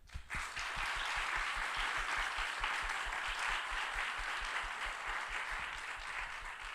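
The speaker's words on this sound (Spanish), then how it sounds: "así que un aplauso para ella." A literary event audience in Valparaíso applauds author Gabriela Wiener, sustained many-handed clapping with a rapid, even patter that stays full before easing slightly at the end.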